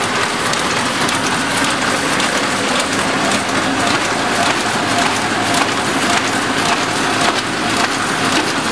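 An envelope feeding machine runs steadily, its jogger arm tapping the tab of the envelope pile in a dense, continuous mechanical clatter with fast rhythmic ticking, loud and close throughout.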